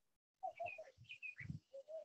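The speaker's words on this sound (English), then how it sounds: "But Bablu, we're able to hear the birds in the background" Birds chirp and sing outdoors in a quick run of short whistled calls, faint and somewhat distant, with no voices over them.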